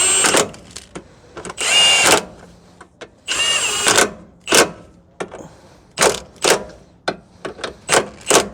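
A power tool drives a bolt through the lower ball joint on a 2010 Toyota Corolla 1.8 during CV axle work, sounding in short close bursts of whirring and rattling separated by brief pauses and clicks.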